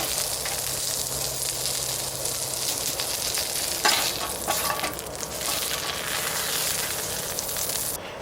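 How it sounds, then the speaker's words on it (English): Steak sears in a pot over a campfire, a steady loud sizzle and crackle running throughout with faint wind and stirring. "we're going to start searing off the steak"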